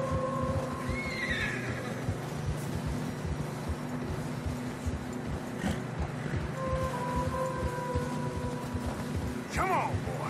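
Horses in Red Dead Redemption 2 neigh and whinny while hooves clop steadily through fresh snow, with game music and talk mixed in throughout.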